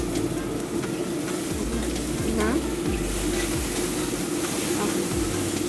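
Red onions and tomatoes sizzle steadily in a pan at a Peruvian cooking demo, a continuous close hiss with soft low thumps from stirring underneath.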